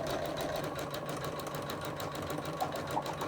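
A Janome embroidery machine stitches out a lace coaster, a steady close mechanical whir with fast repetitive needle ticking and a couple of faint clicks, running alone without talk.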